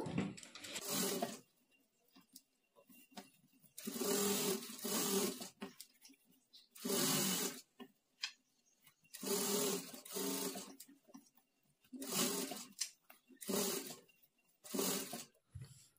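Sewing machine stitching the lining edge of a work blouse, running in repeated short bursts of rapid whirring separated by quiet pauses, close by and fairly faint, with no talking.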